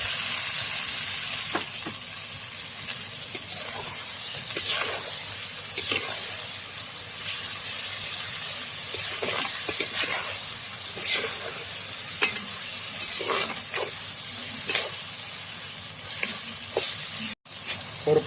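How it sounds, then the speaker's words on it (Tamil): Half a kilo of chicken fries in hot oil for a Tamil pichipota kozhi fry, giving a steady, close sizzle with frequent scraping stirs and spatters throughout. "ஒரு 10 நிமிஷம் சிக்கன் நல்லா வெந்துருச்சுங்க எண்ணெயிலேயே."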